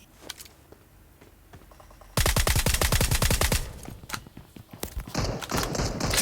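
Rapid gunfire from an automatic weapon in the mobile shooter Valorant Mobile bursts in loud and close after quiet game ambience, with a long burst followed by scattered shorter volleys.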